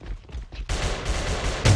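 Gunfire in the online shooter AVA (Alliance of Valiant Arms), a quick cluster of shots followed by a sustained loud burst of rapid fire that swells near the end.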